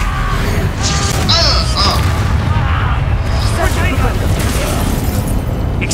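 Confringo and Bombarda spells blast in rapid succession during combat in the video game Hogwarts Legacy, dense booming explosions and crashes with sparkling magical chimes layered over a constant loud rumble, while a voice shouts over the fight.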